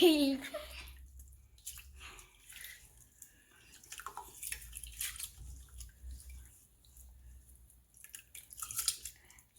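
Water sloshes and drips as uncooked rice is rinsed inside a leak-proof bag, a faint wet swishing and trickling heard close up, with a voice and adult chatter breaking in between the splashes.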